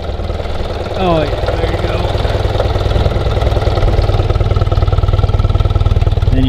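A 1982 BMW R65LS motorcycle engine idles steadily after a cold start, a continuous close rumble with a fast regular pulse running under brief casual remarks from a man nearby.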